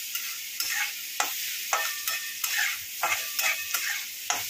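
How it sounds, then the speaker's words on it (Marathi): Onion frying in oil in a pan for a Maharashtrian dal kanda, a steady bright sizzle broken by regular stirring scrapes roughly every half second, close up and with no voices. "कांदा मस्त गुलाबी रंगावरती आपण फ्राय करून घ्यायचा आहे।"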